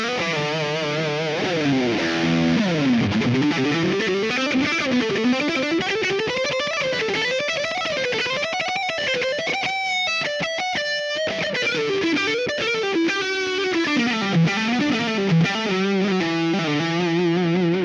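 Distorted electric guitar playing a sustained, bending lead line drenched in reverb, loud and up front with no voice over it.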